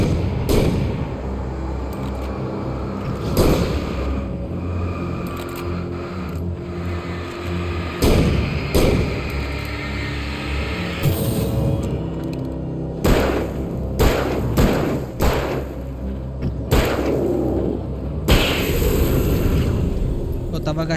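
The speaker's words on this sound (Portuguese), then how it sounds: "Eu tava gastando a munição da escopeta" Shotgun blasts boom out one after another in Alan Wake Remastered on PS5, loud and spaced a few seconds apart, with a player talking throughout.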